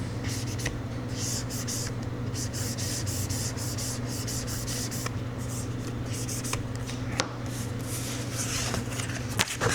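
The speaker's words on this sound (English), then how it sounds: "I'll take the squeegee from the inside out to tack that down." Squeegee pressing a vinyl skin onto an Asus Zephyrus G16 (2026) laptop, continuous close scraping and rubbing strokes with occasional small clicks, steady and fairly quiet, no talking.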